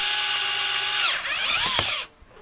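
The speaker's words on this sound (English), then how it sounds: "I'm going to drill my top hole through there." An electric drill bores a hole through PVC pipe, its high whine loud and steady for about two seconds, dipping in pitch under load near the middle before cutting off abruptly.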